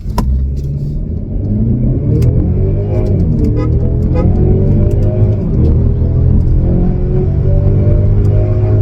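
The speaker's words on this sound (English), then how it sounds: "Give it a good rev." A 2025 Mercedes-Benz CLE300 in four-wheel drive revving and accelerating hard, a loud steady engine roar with rising and falling pitch heard close and alone for nearly nine seconds.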